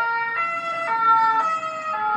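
A passing ambulance siren sounds loud and steady outdoors, its two-tone wail switching back and forth about every half second with no speech.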